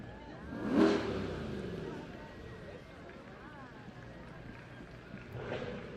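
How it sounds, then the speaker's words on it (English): A Corvette passing in the 2022 San Jose Veterans Day parade, its engine swelling in a brief rev early on and rising again near the end, mid-distance, beneath a speaker talking over the crowd noise. "we got a good engine in that Corvette"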